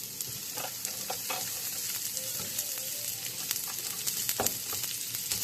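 Onions fry in a hot cast iron pan with a dense, continuous sizzle and crackle, close and loud, with faint stirring taps scattered through it.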